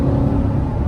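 A C7 Corvette engine rumbles through its quad exhaust with straight-through pipes, a deep, steady, close idle drone that fills the low end for under a second with no talking.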